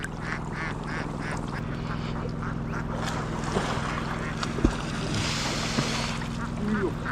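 Ducks in a paddy field quack in short, scattered calls against steady outdoor noise and a low continuous hum, moderately close, with no talk.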